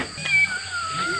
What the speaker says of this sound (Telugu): नहीं बिल्ली है, जंगल बिल्ली.